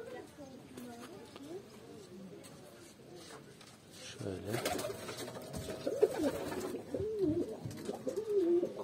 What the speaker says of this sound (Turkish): Her cins güvercin var içinde.